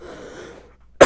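A single sharp, loud cough bursts out at the end after a stretch of quiet background noise.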